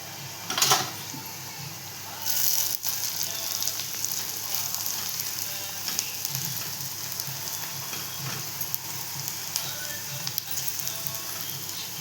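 Chopped onion frying in a pan with a pinch of asafoetida and turmeric, a steady close sizzle with brief louder crackles near the start, no talking.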